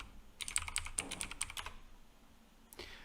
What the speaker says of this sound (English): I have to type it in again